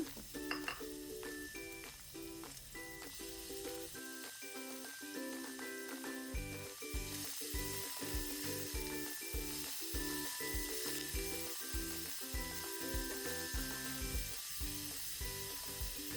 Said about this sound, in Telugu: ఈ ఉల్లిగడ్డలు మంచి ఒక బ్రౌన్ కలర్ వచ్చేదాకా వేపుకుందాము